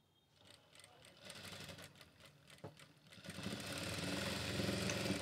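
A tailoring sewing machine stitches cloth, its motor whirring in a fast, even chatter that starts quietly and builds to a louder steady run by the end.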